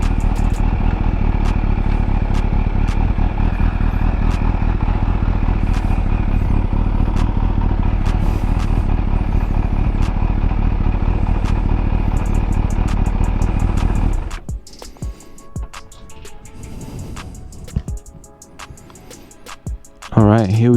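A Kawasaki Ninja H2 motorcycle engine runs with a loud, steady, close-up rumble for about fourteen seconds, then cuts out abruptly and leaves only faint, quieter sounds.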